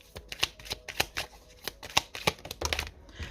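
Tarot cards are shuffled and drawn by hand, a close series of crisp, irregular card snaps and flicks with short pauses between them, and no talking over the sound.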